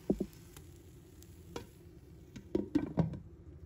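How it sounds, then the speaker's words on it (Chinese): An oyster and egg pancake fries in a pan, with soft sizzling and several sharp scraping and tapping hits from a utensil as it is flipped, clustered near the start and end. "再翻过面了煎一下"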